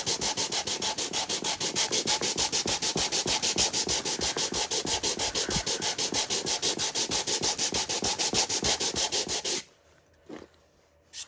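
Close, rhythmic back-and-forth strokes of 100-grit sandpaper on a wooden Bluetooth speaker box, steady and loud for about nine seconds before stopping, followed by a few faint handling sounds.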